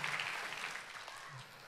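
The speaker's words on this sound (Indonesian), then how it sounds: "Berikan tepuk tangan yang paling meriah buat Tuhan." Faint audience applause in a church sermon hall, a soft, steady patter of clapping from a distant crowd that fades slightly over under two seconds.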